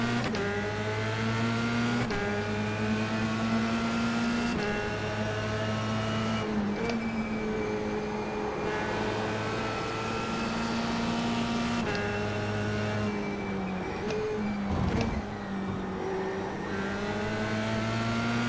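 Formula 3 race car engine in the iRacing sim at Road Atlanta, a loud, steady high-pitched whine climbing through the gears with brief lifts and downshifts, continuous and close throughout.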